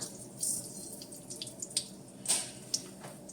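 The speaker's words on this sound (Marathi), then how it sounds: "मोहरी तडतडते" Mustard seeds crackle and pop in hot oil on a stove, scattered sharp little pops and sizzles at irregular intervals over a faint steady hiss, fairly quiet and close.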